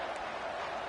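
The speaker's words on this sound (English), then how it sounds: "this crowd is bringing down the house" Stadium crowd roars in a college football video game at a Nebraska home game, a dense, steady wash of cheering noise with no voices picked out.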